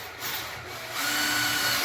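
Power drill with a 5mm bit spinning against a wall through shoe rack mounting holes to score it, a close, steady high whir that rises in pitch and loudness partway through.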